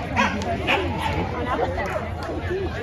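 Several corgis bark and yip amid crowd chatter at a corgi racing championship final, an outdoor gathering with lively, overlapping voices.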